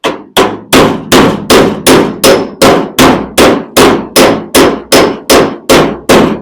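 Hammer striking a dent in the sheet metal of a 1970 Dodge Challenger, about fourteen loud, sharp, evenly spaced blows in a steady rhythm, close up with no talk.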